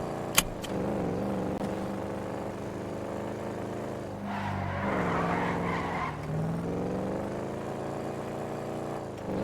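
Car engine and skidding tires in a roleplay video game, a steady engine drone running throughout with squealing tire skids swelling midway, no talk heard.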